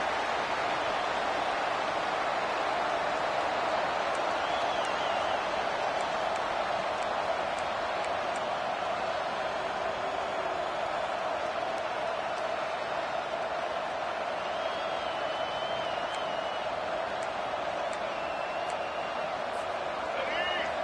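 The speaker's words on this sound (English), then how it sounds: "The roar of the crowd trying to fuel this defense to keep them pinned in their own end" A college football stadium crowd keeps up a broad, steady roar, a distant wash of massed voices that holds level throughout.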